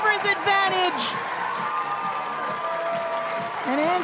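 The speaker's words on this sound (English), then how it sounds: "the crowd here in Canberra absolutely delighted for the youngster" Football stadium crowd in Canberra cheering a goal by an 18-year-old substitute at an A-League match, a broad sustained roar with whoops and applause running throughout, while a commentator talks over it.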